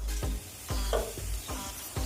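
Carrot and onion stirred as they fry lightly in a pan for a savory semolina halwa, with a steady sizzle and repeated scraping strokes of a spatula about every half second, close and fairly loud, no talking.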